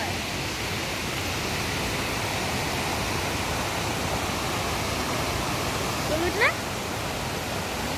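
Steady, full rushing of flowing water fills the whole stretch, with a brief high chirp rising over it near the end.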